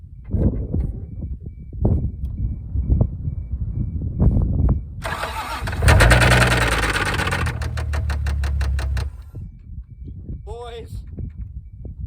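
A Toyota Supra, abandoned for 8 years, cranks with a rapid whir and fires up loudly, running for a few seconds before cutting off, with talk before and after.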